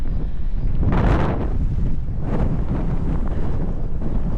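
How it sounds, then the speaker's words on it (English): Strong wind at San Luis Reservoir during striped bass fishing buffets the microphone in loud, rumbling gusts that swell around the one-second and two-and-a-half-second marks, with no voices. "It's really windy out here."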